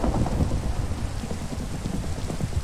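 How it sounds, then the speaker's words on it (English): Rain pours steadily through a Minecraft thunderstorm, a dense continuous hiss with low rumbling thunder underneath, loud and even throughout with no voices. "Fun working in a thunderstorm."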